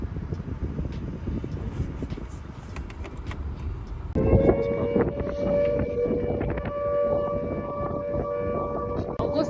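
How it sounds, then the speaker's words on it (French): A civil defense siren summoning volunteer firefighters in a New Zealand town wails steadily and swells partway through, heard outdoors against wind noise. "cette alarme, c'est quand ils appellent les pompiers"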